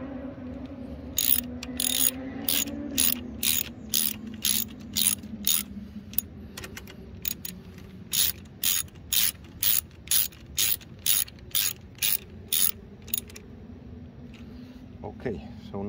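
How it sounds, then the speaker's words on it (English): A 10mm socket wrench ratchets in rapid bursts of sharp clicks while tightening screws on a seat structure with a remote command post, the clicking coming in repeated close runs over a low background hum. "this is a 10mm head screw, so you need a 10mm socket wrench"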